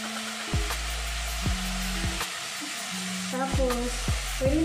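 A pot of pork sinigang sizzles while being stirred, with repeated scraping strokes and clattering knocks against the pot. A low hum runs underneath.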